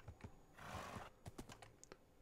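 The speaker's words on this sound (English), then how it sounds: "There's a lot of horses." Minecraft horses let out a short neigh with soft hoof clops in the video game, heard near and faint, with scattered light clicks like keyboard typing around them.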